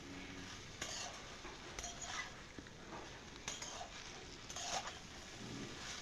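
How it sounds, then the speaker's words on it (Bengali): A spoon stirs mixed vegetables in a cooking pot after the lid is lifted, with intermittent scraping and knocking strokes over a faint low sizzle, quiet and close. "আবারও একটু মিশিয়ে নিচ্ছি।"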